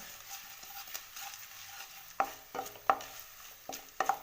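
Cumin and pepper powder cooking in a pan for khara pongal make a low, steady sizzle with a soft bubbling boil, broken by several distinct scraping clinks of a spoon stirring in the second half.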